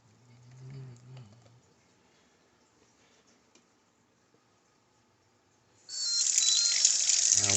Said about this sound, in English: I wash my hands.